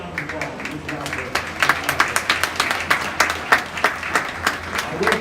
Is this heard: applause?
yes